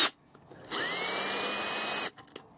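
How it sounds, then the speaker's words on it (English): Power drill spinning for about one and a half seconds as it undoes a stainless steel band screw on a CRT TV, a steady whine that rises slightly in pitch, close and loud, with quiet handling noises before and after. "So what I do for those is I just grab my drill"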